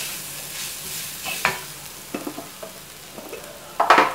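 Ground spices including coriander powder and garam masala frying in a pan for a potato egg curry, with a low sizzle under irregular spatula scrapes and a louder burst of stirring at the end.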